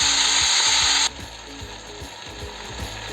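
Loud sizzling of fried rice cooking cuts off, then a pepper mill grinds fine pepper with a steady run of close, rhythmic ratcheting clicks.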